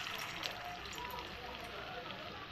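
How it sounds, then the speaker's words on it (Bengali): Vegetarian soybean muthia dumplings frying in hot oil in a kadai give a steady, even sizzle and crackle that stays continuous and fairly faint throughout. "কড়াতে তেল দিয়ে দিয়েছি, তেলটা গরম হয়ে গেছে। এখন আমি মুঠাগুলি দিয়ে দিচ্ছি।"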